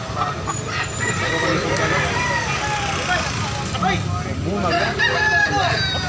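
Roosters crow repeatedly amid the busy bustle of a Carbon market in Cebu, their calls cutting through constant crowd noise and nearby talk.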